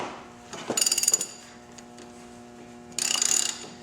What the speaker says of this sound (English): Okay, and then you just keep unscrewing it.